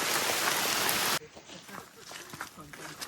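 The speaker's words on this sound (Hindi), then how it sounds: "अभी ट्रैक शुरू हुआ है और बरसात हो गई।" Rain falls steadily at the start of a mountain fort trek in India, a dense, hissing patter that cuts off abruptly, leaving quieter outdoor sounds with scattered drips and movement.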